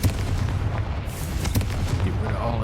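Confringo fire spell blast in Hogwarts Legacy, a dense, rumbling explosion roaring continuously with a sharper crack partway through, loud and close.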